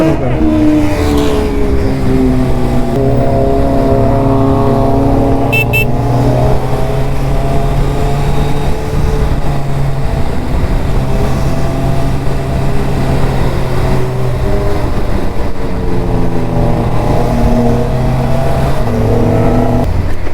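A motorcycle with a quickshifter revs hard and continuously, its engine note stepping up through gears changed without the clutch, loud and close throughout.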